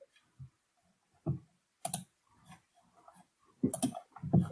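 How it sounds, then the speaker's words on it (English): Someone clicks around on a computer, producing scattered quiet clicks and taps at an irregular pace, some in short clusters, faint and close with long silent gaps between them. "But who's clicking around?"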